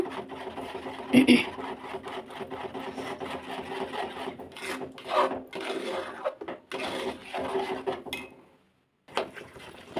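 Thick ragi halbai mixture of finger millet and coconut being stirred in a pan, a steady scraping and rubbing that runs for most of the stretch, with brief louder knocks and a short pause near the end.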